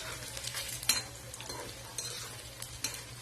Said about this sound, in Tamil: இது கொஞ்ச நேரம் ஃப்ரை ஆனதும் நம்ம வந்துட்டு அடுத்த சைட் டர்ன் பண்ணி விடலாம்.